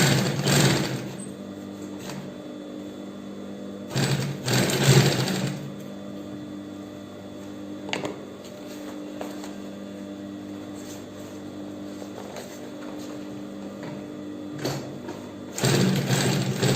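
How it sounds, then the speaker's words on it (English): A sewing machine top stitches along the folded edge of denim on a backpack, giving short whirring runs separated by pauses, close by, with no talk. "Top stitch means we'll sew across the jean on that folded edge."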